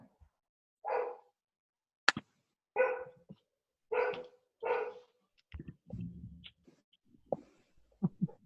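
A dog barks four times at an even pace, each bark close and clear. Quieter whimpering or snuffling sounds and brief scattered noises follow.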